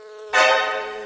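Angry bees buzz around a beehive as honey is taken, a sudden loud, close droning hum that swells in and then slowly eases while continuing.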